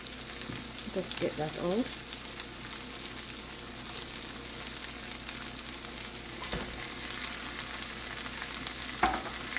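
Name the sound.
canned corned beef sautéing in a pan with garlic paste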